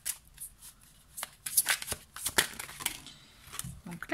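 Tarot cards are shuffled and drawn by hand in a quiet room, giving a run of soft riffling flicks and sliding snaps, close and fairly faint, with an occasional murmur.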